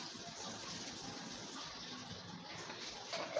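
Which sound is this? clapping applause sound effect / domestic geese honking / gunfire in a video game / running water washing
running water washing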